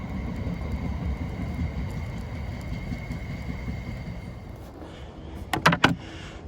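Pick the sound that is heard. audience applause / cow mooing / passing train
passing train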